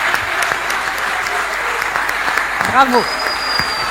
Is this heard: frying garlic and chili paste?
no